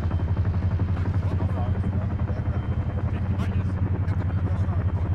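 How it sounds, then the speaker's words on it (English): A Chinook helicopter in the video game ArmA 3 gives a loud, steady rotor and engine drone that holds without a break for the whole stretch. "we can't seem to lift this device with Chinook"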